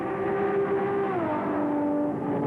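Vintage 1965 race cars, including a big 427 Cobra and a Ferrari, battling at Bridgehampton, with a steady engine drone whose pitch slides down as a car passes, sustained and fairly loud with no talk.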